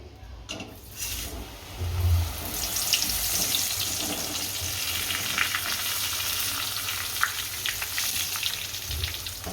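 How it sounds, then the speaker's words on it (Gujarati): Poha (flattened rice) frying in oil for pava chevdo, a loud, close, crackling sizzle that swells after a short quiet start and holds steady throughout. "હવે પૌવા તળશું"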